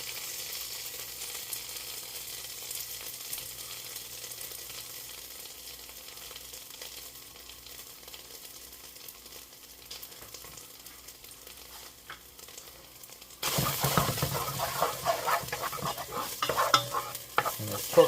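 Tomato paste for tomato risotto cooks and sizzles in a pan under steady stirring, quiet at first, then turning suddenly louder and brighter partway through as the frying and scraping intensify.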